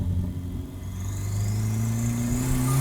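Home-built turbocharged Toyota Celica, an early-1980s design, accelerating hard: a loud, steadily rising engine note climbs over nearly three seconds with no talk.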